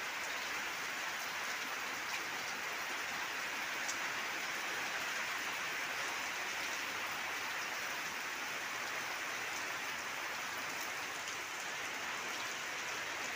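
Rain pours into a household courtyard where water has collected, a constant close hiss and patter of drops on the wet surface, unbroken throughout with no talking.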